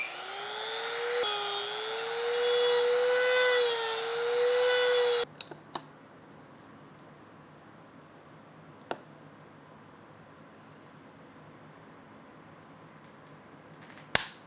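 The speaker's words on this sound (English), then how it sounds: "this is where it's a job for the Dremel." A Dremel rotary tool grinds a motorcycle dash part for a Suzuki DR650, giving a loud high whine that wavers in pitch for about five seconds, then cuts off, leaving a few sharp clicks over quiet room tone.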